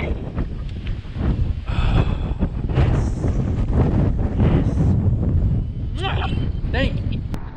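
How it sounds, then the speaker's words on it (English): Strong, near gale force wind roars and buffets the microphone while kayaking on a lake, a loud continuous rush with gusty swells and some water sounds beneath it. "You see the wind, you hear the wind."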